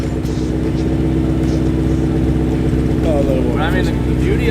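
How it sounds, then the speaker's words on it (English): Steady, loud car engine idling close by through a full titanium Boma valved exhaust, a deep continuous drone with a brief rise near the end. "This is full titanium Boma's exhaust."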